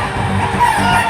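Chickens cluck briefly at a government poultry farm sale centre in Chattogram, a short burst of fowl sounds over a busy background hum.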